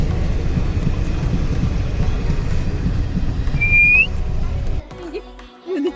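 A train rumbles past close by, a steady loud rolling roar with a brief high whistle partway through, then the noise drops away abruptly near the end as the last cars clear.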